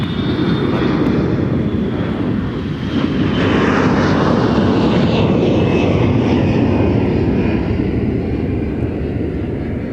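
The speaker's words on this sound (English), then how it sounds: "We got a departure off to LAX." An airliner departs Minneapolis–Saint Paul airport bound for LAX, its jet engines making a loud, steady roar that stays close throughout.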